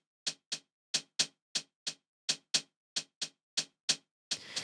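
Hi-hat hits with an LFO sweeping EQ and gain play in a loose rhythm, each bright tick shifting slightly in tone and level, ending with a brief burst of noisy sound.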